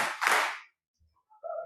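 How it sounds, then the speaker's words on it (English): At a congregational gathering, a group of people claps together in one short, loud burst. Near-silence follows, then a faint tonal sound at the end. "If you can hear me, clap 3 times."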